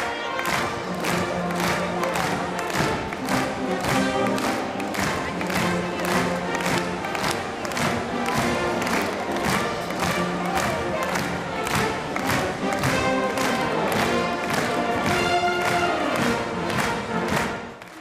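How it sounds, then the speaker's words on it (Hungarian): A crowd claps in steady unison to a Swabian brass band as a procession marches in at the 20th-anniversary celebration of a regional German minority self-government in Hungary. The beat stays loud and regular, with bright brass tones throughout. "Ütemes tapsra és igazi sváb fúvó zenére vonultak be"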